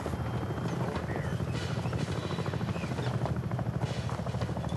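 Helicopter flying close by during a military rope insertion, a loud, steady rotor thump and engine roar filling the whole stretch with a continuous throbbing beat.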